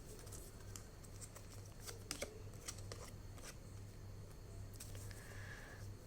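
Tarot cards being shuffled by hand, a soft, steady papery riffling and patter with a few sharper flicks, close and quiet over a low background hum, no talking.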